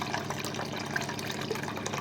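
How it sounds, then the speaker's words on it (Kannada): Water poured into washed lentils for dal, a steady close trickle and splash of liquid lasting the whole moment. "ವಾಶ್ ಮಾಡ್ಕೊಂಡ್ಮೇಲೆ ಇದಕ್ಕೆ ನಾನು ನೀರು ಹಾಕ್ತಾಯಿದ್ದೀನಿ"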